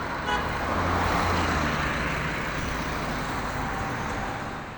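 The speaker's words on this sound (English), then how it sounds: "the roads leading to the main Abuja city from the satellite towns witnessed a large surge of vehicular traffic" Heavy road traffic streaming into Abuja city from the satellite towns, a dense, steady roar of cars, trucks and buses close by, with occasional horn toots cutting through and no voices.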